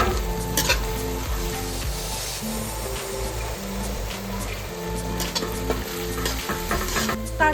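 Ginger-garlic paste and coriander powder sautéing in a pan for a Bengali dish, with a steady loud sizzle and repeated scraping stirs of a spatula against the pan, with no voices.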